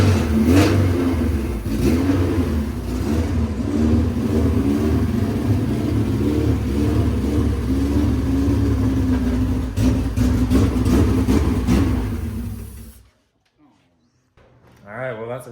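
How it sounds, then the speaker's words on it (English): A Honda Integra Type R engine, just started after wiring fixes, revs up and down repeatedly in a loud, close throaty roar with a rumbling idle between blips, then cuts off abruptly into near silence before a faint return at the end. "This car started up first try after we dialed in a couple of wiring issues."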